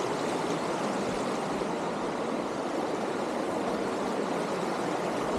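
River water rushes steadily during a 4x4 river crossing near Mt. Pinatubo, a dense, even wash of flowing water with no breaks or voices.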